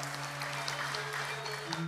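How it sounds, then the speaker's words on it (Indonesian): Applause from the audience at a governor's academic oration in Bali, given for Universitas Terbuka: steady, moderate clapping from a crowd over a constant low electrical hum. "Tepuk tangan untuk universitas terbuka."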